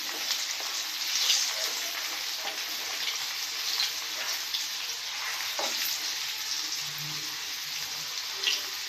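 Crushed garlic and other tempering ingredients sizzling in hot oil for a tomato pickle, a steady close frying hiss with faint stirring clinks and no talking.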